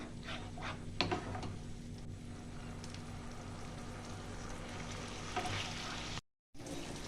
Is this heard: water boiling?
yes